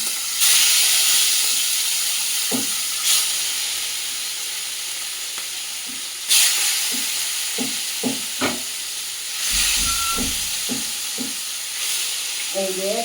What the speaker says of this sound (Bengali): এখন এটার মধ্যে হালকা ফুলকা করে মাছটা ভাজা করব।